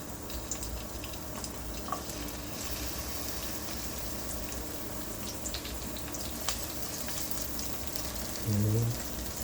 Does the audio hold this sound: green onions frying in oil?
yes